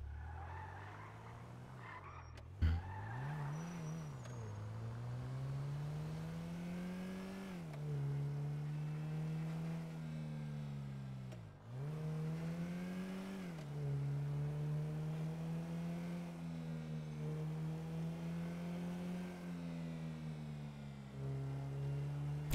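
An engine revs up and down continuously, pitch rising and falling between gear shifts, with brief tire skids, as a taxi car is driven in a video game; loud and close throughout, with no talking.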